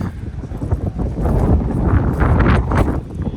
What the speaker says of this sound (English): Whoa, wind's picking up.